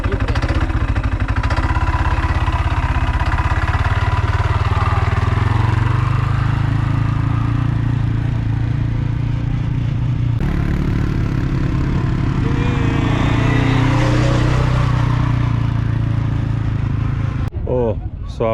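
A quad bike engine drones steadily and loudly close by as it is ridden through desert terrain near Jaisalmer, Rajasthan, with wind buffeting and occasional voices underneath.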